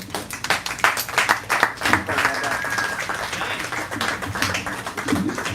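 Live audience at a poetry show claps for a featured poet, a dense patter of hand claps running throughout with voices mixed in over the crowd.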